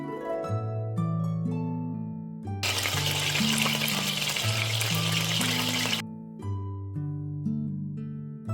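Chicken breast paillard frying in a pan, with a burst of loud sizzling in the middle that stops abruptly, set against steady background music.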